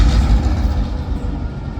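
A freight train creeps slowly through rail yard switching, giving a loud, continuous low rumble with heavy engine drone close by, with no voices.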